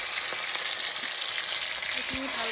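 Bay leaves, dried red chillies, whole cumin and tomato fry in hot oil for a banana-flower curry, giving a steady, close, dense sizzle with a few faint stirring clicks and no talk.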